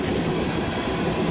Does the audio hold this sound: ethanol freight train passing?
yes